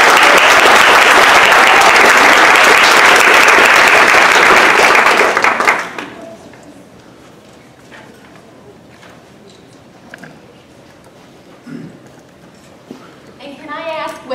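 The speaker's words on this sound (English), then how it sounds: "All right, another round of applause, make them smile." Full applause from an awards celebration audience lasts about five seconds, then drops off sharply, leaving quiet room noise with a few faint bumps and a short voice near the end.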